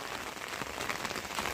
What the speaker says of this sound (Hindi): और बाकी देखिए ज़बरदस्त बारिश।